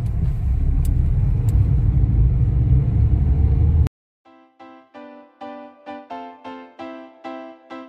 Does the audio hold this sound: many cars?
yes